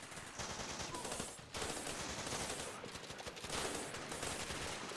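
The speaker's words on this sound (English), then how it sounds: "I hear a bunch of gunshots over here." Rapid bursts of gunfire in the video game Running With Rifles rattle continuously, with sharp volleys swelling and fading over a dense, noisy backdrop.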